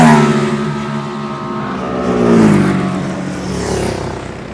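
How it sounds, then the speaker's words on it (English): Ducati and British racing motorcycles lap a track in demonstration runs, their engine note swelling as a machine nears and then fading, a loud rising and falling roar with no talk. "These bikes aren't actually racing, they're just doing demonstration laps."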